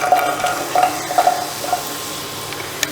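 Chopped onions frying in hot coconut oil give a loud sizzle, with several quick stirring scrapes of a utensil against the pan near the start.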